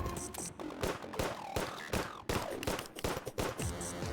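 Dense rapid gunshots in Terraria during a boss fight, a busy stream of clustered shots and impacts layered over game music, fairly quiet overall.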